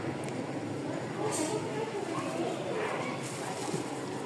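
Racer pigeons in a cage coo softly amid constant background hubbub and rustling, with someone talking over the birds.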